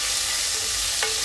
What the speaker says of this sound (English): just let it fry gradually, because and on high heat